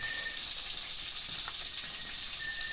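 Bulig or biya fish frying in hot oil, a steady bright sizzle and hiss throughout with faint pops, close and continuous with no voices.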